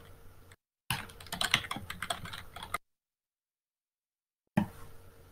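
Close, quiet typing on a computer keyboard, a quick run of irregular key clicks in two bursts separated by silence.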